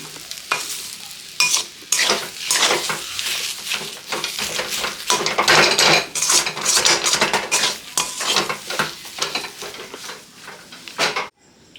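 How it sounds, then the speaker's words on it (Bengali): Prawn chop batter fries on a low flame in a pan, with a constant sizzle under frequent clattering stirs and scrapes of a utensil against the pan, close and loud. "একটু টাইট টাইট করে ভাজতে হবে হালকা আঁচে। একদম লো ফ্লেমে করতে হবে এটা।"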